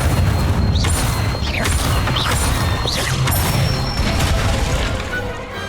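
Incendio fire spell cast in the Hogwarts Legacy video game, a loud, dense roaring burst with repeated whooshing sweeps and crackle, continuous and close for several seconds.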